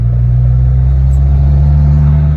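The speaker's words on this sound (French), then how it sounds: "un 4 cylindres qui fait un son comme ça" A small four-cylinder Abarth engine runs close by with a loud, steady low rumble and throaty hum, holding an even pitch throughout.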